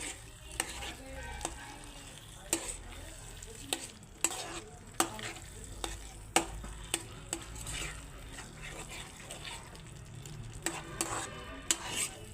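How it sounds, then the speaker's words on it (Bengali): Prawns being stirred in a hot pan for a Bengali chingri malai curry, a steady sizzle of frying broken by repeated sharp scrapes and clinks of a spatula against the pan, close and fairly loud, with no talking. "এবারে চিংড়ি মাছগুলো দিয়ে দিচ্ছি একটু নেড়ে চেড়ে নিচ্ছি"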